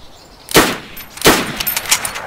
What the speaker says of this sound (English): They're shooting back.